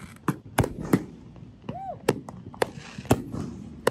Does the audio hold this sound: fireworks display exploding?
yes